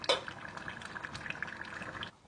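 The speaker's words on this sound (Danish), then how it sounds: "Så skal den stå og simre i 25 minutter med låg over." Tomato pizza sauce simmers in a pot, giving off a steady soft bubbling and gurgling that stays close and constant before cutting off abruptly near the end.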